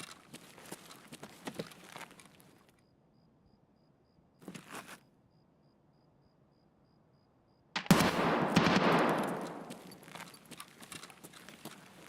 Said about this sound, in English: So that scav's shooting at me.